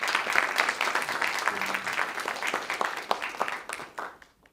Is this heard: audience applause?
yes